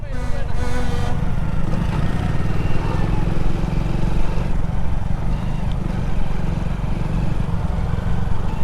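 A motorbike's engine drones on without a break, near and loud, its rough low rumble staying even throughout with no pauses.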